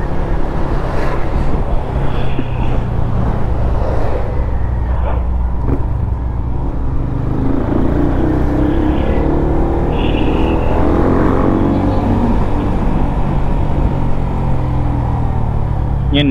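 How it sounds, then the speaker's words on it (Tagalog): A motorcycle engine revs and drones steadily over a rough road, loud and close throughout with a continuous rumble and rising pitch sweeps, as if riding fast, with faint voices now and then. "palipad yung motor dito"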